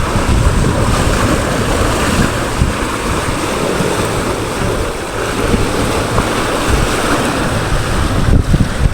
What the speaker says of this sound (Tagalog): kasi malakas talaga ang alon